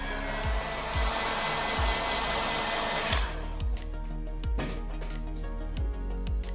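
A heat blower roars steadily while warming the ear speaker of a Samsung Galaxy A50 during a repair, a loud continuous airy rush with soft periodic thumps, easing slightly after about three seconds, no voices.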